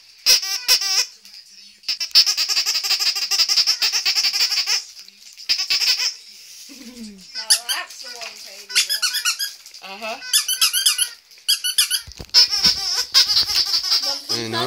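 A squeaky toy sheep bleats in repeated bursts, loud and close, with some pauses between, while people talk nearby.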